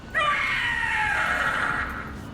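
A Gloomhowler monster in Dragon Age: The Veilguard lets out one loud, drawn-out shriek lasting about two seconds, harsh and strained with a slight whinny-like quality, trailing off gradually at the end.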